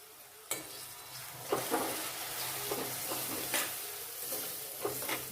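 Ground spices including Kashmiri red chilli powder, with a spoonful of water added, are stirred and fried in oil in a pan for Kathiyawadi ganthiya curry, a steady sizzle broken by several sharp scraping strokes of the spoon against the pan.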